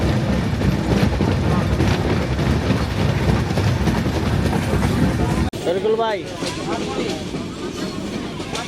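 A train rumbles steadily along with a dense, continuous roar, then the sound dips and voices speak briefly over the ongoing rattling motion as it passes Parbatipur station platform.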